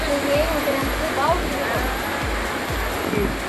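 Strong river water at Batang Kali rushes in a steady broadband roar, loud and constant, with soft low thumps recurring and a few faint bird-like chirps above.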